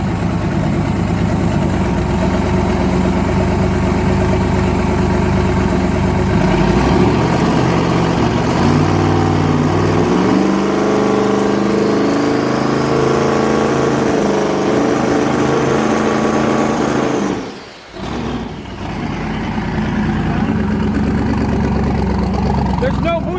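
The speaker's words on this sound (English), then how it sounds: "Alright, our first two-step check." Twin-turbo car engine held on two-step launch control, revving hard and loud and close for most of the stretch, with a sudden cut near the end before it picks back up; people talk over it.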